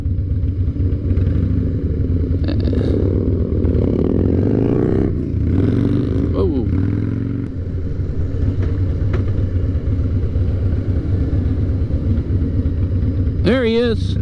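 A Harley-Davidson Fat Boy with ape hanger handlebars rumbles past on the road, its engine steady and fairly close beneath ongoing wind noise and someone talking.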